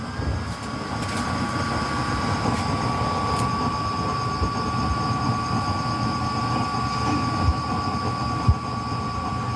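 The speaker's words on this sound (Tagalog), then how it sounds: "Medyo lakasan natin ng blower." A blower on a waste-oil cooking stove running at a raised setting, a loud steady roaring whir with a constant whine, a few faint knocks underneath.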